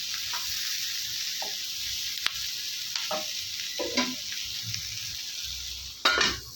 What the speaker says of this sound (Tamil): நல்லா வதக்கி விட்டுட்டு மூடி போட்டு மூடி வச்சுட்டு நல்லா சிம்லேயே வச்சு நல்லா வேக விட்டுருங்க